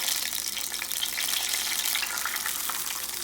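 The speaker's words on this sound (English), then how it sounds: "So we're gonna dip it and we're gonna fry them." Tortillas dipped in beef birria meat grease fry in a hot pan, giving a loud, continuous close-up sizzle with crackling spatter and no talking.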